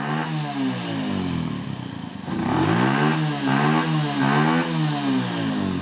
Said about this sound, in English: Dude, it's revving up.